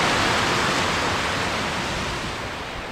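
Continuous broadband roar of a waterfall in the misty Andharban jungle, steady and full for three seconds with no voices, slowly easing slightly in level.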